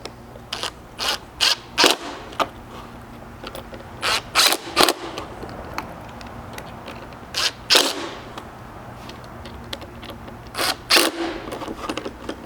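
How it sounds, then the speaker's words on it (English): Close ratchet clicks in short separate bursts while a 5/32 hex tightens button-head bolts into serrated flange nuts on a Bronco tailgate reinforcement bracket, with brief quiet pauses between the bursts. "Then with a 5/32 hex, you can tighten these up."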